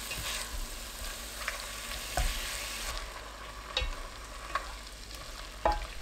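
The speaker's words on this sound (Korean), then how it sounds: "달군 냄비에 식용유 4큰술, 닭가슴살 넣고 중불로 3분 볶아주세요." Chicken breast stir-fries in four spoonfuls of cooking oil in a hot pot over medium heat, giving a soft, steady sizzle broken by occasional scraping stirs.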